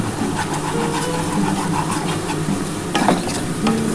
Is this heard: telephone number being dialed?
no